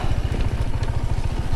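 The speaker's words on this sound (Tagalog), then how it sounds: "Hindi yan okay dahil malaking motor." A big motorcycle rides over slippery, rocky ground, its engine close and loud with a steady low pulsing thrum and a faint crackle throughout.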